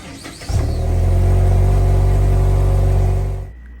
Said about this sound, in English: let's take her for a test drive.